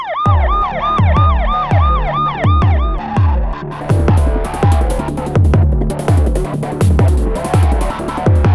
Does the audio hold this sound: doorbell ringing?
no